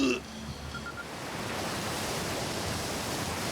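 A loud video game waterfall in Outer Wilds roars as a steady, broad rushing wash that swells in after a brief chime at the start and holds evenly throughout.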